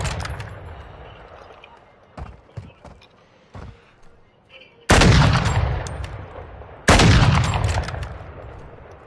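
Gunfire: two loud, sharp shots about two seconds apart, each ringing out and fading, after a stretch of quieter clicks and creaks.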